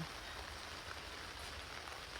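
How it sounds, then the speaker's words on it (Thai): Faint, steady rain falling at a campsite beside a camper van, a constant soft hiss with no other sounds. "ฝนก็ตกเฉอะแฉะนะคะนี่"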